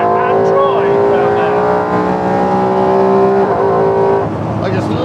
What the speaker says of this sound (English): I just love how the engine revs.